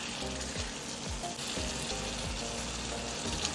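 Masala-coated small sardines fry in a hot pan, giving a steady close sizzle and crackle throughout, with a few faint clicks of handling on top and no talk.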